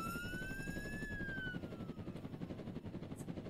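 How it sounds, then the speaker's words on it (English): Helicopter in the Roblox game Jailbreak, a steady low rotor chop running through the whole stretch with a rising and falling tonal whine layered over it, loud and close, with no talk. "Can you not steal my helicopter?"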